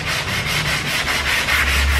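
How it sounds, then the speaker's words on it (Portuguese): Sandpaper rubbed by hand over a car body panel during home bodywork before painting, a steady close, loud rasping scrape with rhythmic back-and-forth strokes and no voices. "você não pode lixar muito aqui"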